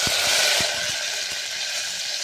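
Steady crackling sizzle of mustard seeds and curry leaves frying in hot oil, with a few soft pops near the start and no talking.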